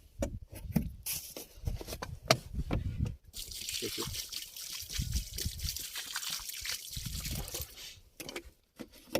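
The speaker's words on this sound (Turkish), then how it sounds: "Daha sonra buna bir can suyu döküyorum." Water poured from a container onto the soil around a newly planted pomegranate sapling, a steady close trickle and splash running for several seconds after a few brief handling noises.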